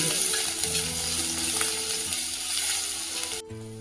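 Turmeric, cumin and a chili-garlic paste sauté in a pan with a steady, close hissing sizzle and faint scraping, then the sound cuts off abruptly near the end.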